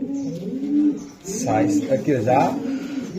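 Racing pigeons from the BRPFC club's 2025 loft coo softly in low, throaty bursts beneath steady, close conversation.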